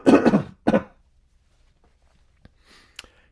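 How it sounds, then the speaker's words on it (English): A man clears his throat twice in quick succession, loud and close to the microphone, followed by near silence with a few faint clicks and rustles. "I have to clear my throat."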